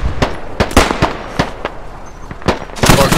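Sharp, loud blasts and pops from grenade explosions in the video game Squad, several close bursts in quick irregular succession with no talk over them.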